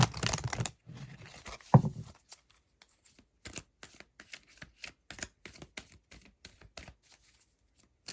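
Energy Oracle cards being shuffled up close, starting with a dense flurry of riffling and then moving into a long run of soft, separate card taps and flicks.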